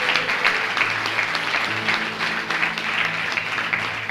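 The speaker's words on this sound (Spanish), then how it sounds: "Alábelo a Dios, dele un aplauso." A church congregation claps together in a steady wash of applause, with a held musical tone sounding beneath the clapping throughout.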